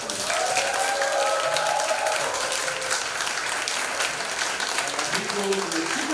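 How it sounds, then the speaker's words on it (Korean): An audience applauds the Charlotte orchestra players at a community culture concert, a sustained dense wash of clapping that stays steady and loud throughout, with a few voices carrying over it. "우리 그 샤롯트라운 오케스트라 단원들께 큰 박수 한 번만 더"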